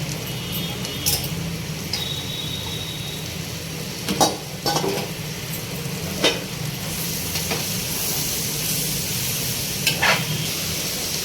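Mango pieces frying in a pan with ginger garlic paste for a prawn, mango and onion curry: a steady close sizzle with scattered spoon clinks and stirring scrapes, and no talk.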